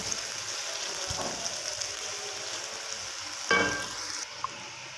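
Fresh ginger paste sizzles in a pan for shahi chana, a soft steady frying hiss with a couple of brief louder sputters as it is stirred, no voices.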